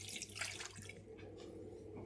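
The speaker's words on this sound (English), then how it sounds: "And I'm adding water." Water pouring into a pan of potatoes, a close, splashing rush that tapers off into a quieter trickle and faint drips within about two seconds.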